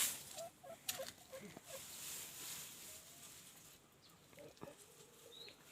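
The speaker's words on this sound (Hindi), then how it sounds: "ये देखिए मुर्गे अंदर," Faint, scattered chicken clucks and short calls from chickens kept inside an old house in Kullu, over a steady hiss of background noise, with a few soft knocks and rustles.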